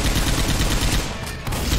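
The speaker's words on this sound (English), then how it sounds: "Don't stop shooting!" Dense, rapid automatic gunfire from the zombie shooter Left 4 Dead 2 on PC, loud and continuous with a brief dip near the end, no talk over it.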